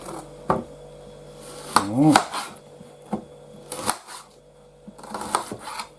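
A knife chops onions on a board in a village kitchen in irregular bursts of sharp cuts and clatter, with a person talking between strokes.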